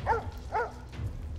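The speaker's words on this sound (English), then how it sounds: "Oh, the dog. Frag. He's still barking." A dog in the Divinity Original Sin 2 video game barks twice in quick succession, fairly close, followed by quieter game background sound.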